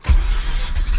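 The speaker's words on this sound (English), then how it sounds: "start the car" A Mazda RX-8 rotary engine cranks and catches in a short burst, a low rumbling start heard close with no talking.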